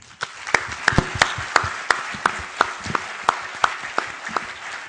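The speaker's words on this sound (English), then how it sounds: "having a huge, huge round of applause for him." A small crowd applauds, with a few sharp individual claps standing out over a steady patter of hand clapping.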